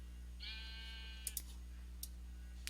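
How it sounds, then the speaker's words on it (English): A pet sheep in the Minecraft video game gives a single thin, wavering bleat, followed by a few sharp game clicks, all fairly quiet over a steady low hum. "And now I have a pet sheep."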